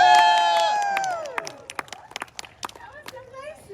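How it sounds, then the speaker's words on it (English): A Renaissance festival crowd claps and cheers, with a loud burst fading into scattered claps and whoops while voices and a shout carry over it. "A big round of applause for the beautiful, the talent, the amazing, the Princess of Spain"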